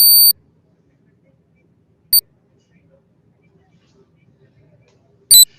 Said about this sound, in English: some beep sound is going on